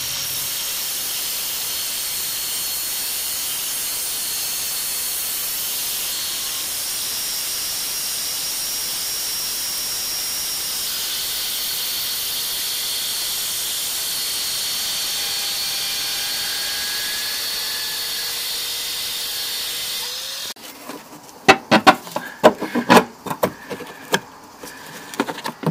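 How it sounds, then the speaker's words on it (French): A 125 mm angle grinder cutting a bolt during a rear shock absorber change on a Citroën C3, a steady loud high whine for about twenty seconds, then stopping and giving way to irregular clanks and knocks. "on décide de sortir la meuleuse directement"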